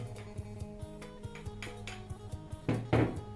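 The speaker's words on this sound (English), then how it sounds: "and continue pounding." Dried shrimp pounded in a mortar for som tum: a regular series of dull knocking thuds at an unhurried pace, ending in two louder, heavier strikes, close by with no voices.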